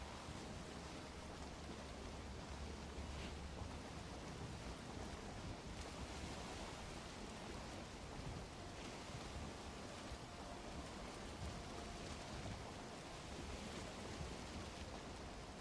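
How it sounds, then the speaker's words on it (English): A small creek in the Rudiheim game world flows steadily, a soft, continuous broadband wash of running water with no talk over it. "Oh, that's a neat little creek here."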